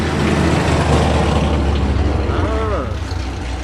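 A car with a Nissan GA engine idles at a street racing dig event, giving a loud, close, steady rumble with some mechanical whine. People talk nearby over the engine.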